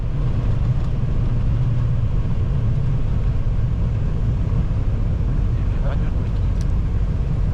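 An airliner rolling out after landing at Paris Orly, with a steady, loud low roar of reverse thrust and braking filling the whole stretch, broad and constant without break.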